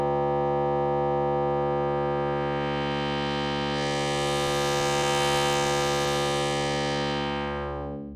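A Reaktor 6 synth patch with four stacked filters sustains a dense, buzzy harmonic drone while the tilt is swept, brightening and spreading the voices in the middle before settling, loud and continuous with no talking.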